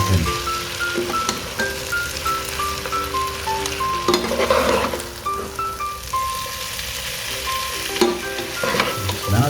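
Bean sprouts, patola and a few carrots being stirred in a hot pan for pancit batil patong, a steady sizzle broken by repeated scraping strokes, with a faint tonal melody running underneath.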